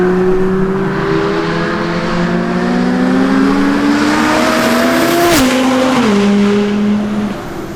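A 1400bhp Audi TT RS engine revs hard and loud up close, its pitch climbing steadily before dropping sharply twice as it shifts, then settling back down.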